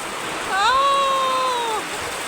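Heavy rain pours outdoors near a flooded wheat field as a steady, even hiss, while a long drawn-out vocal tone rises over it for about a second in the middle.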